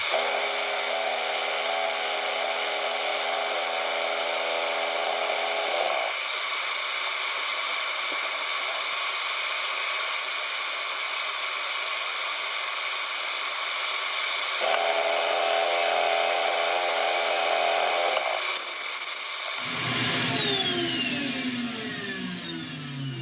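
Olive ash wood being sanded as it spins on a woodturning lathe, giving a steady, loud whirring hum whose pitch shifts a few times over a long stretch, with no voices.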